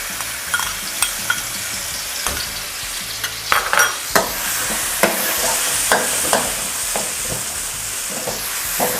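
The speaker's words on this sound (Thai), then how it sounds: "น้ำมันร้อนแล้วนะคะ ใส่พริกชี้ฟ้าสีเหลืองที่เราโขกไว้ลงไปเลยค่ะ" Pounded yellow chilies hit about two tablespoons of hot vegetable oil and are stir-fried for a spicy fish dish. A loud, continuous sizzle runs throughout, broken by repeated scraping and tapping of the spatula against the pan.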